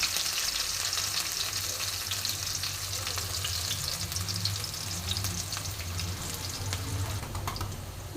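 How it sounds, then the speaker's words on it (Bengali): Whole spices and green chillies sizzle as they temper in hot oil, a continuous close crackling fry at even loudness with occasional stirring, no voices. "এবার ফোড়নটা একটু ভালো মতন ভাজা হবে"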